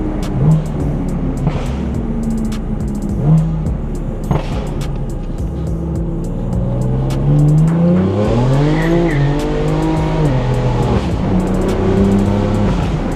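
A BMW M4 fitted with an aftermarket downpipe pulls hard, its engine note sweeping up and down through gear changes while the tires squeal loudly and exhaust burbles crackle between pulls, all close and continuous with no talking.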